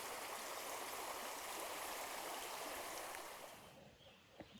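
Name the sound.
creek flowing at river crossing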